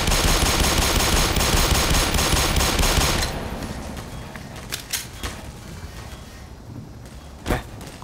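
Sustained automatic gunfire in the shooter game Black Mesa fills the first three seconds, loud and dense, then gives way to a few scattered single shots and impacts over quieter ambience.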